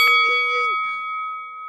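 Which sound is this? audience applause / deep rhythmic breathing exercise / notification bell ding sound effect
notification bell ding sound effect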